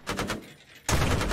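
Gunfire from a grenade launcher in the video game Arma 3: a quick burst of rapid shots, a short pause, then another sustained loud burst of fire.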